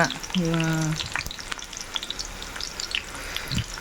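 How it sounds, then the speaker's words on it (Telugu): Thinly sliced onion hits hot oil for a tempering, giving a loud, close, continuous frying sizzle with a brief tonal whine early on and scattered pops and scrapes of stirring throughout. "ఆయిల్ హీట్ అయిన తర్వాత సన్నగా కట్ చేసి పెట్టుకున్న ఒక ఆనియన్ అయితే వేసాను ఇందులో"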